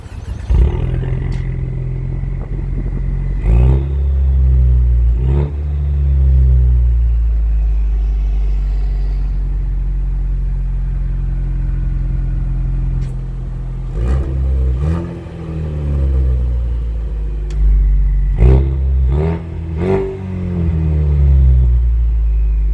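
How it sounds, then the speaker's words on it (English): A 2020 Ford Mustang engine revs hard several times, its active valve performance exhaust blaring deep and throaty in sharp bursts over a steady low idle rumble, close and loud. "the vehicle is equipped with the active valve performance exhaust"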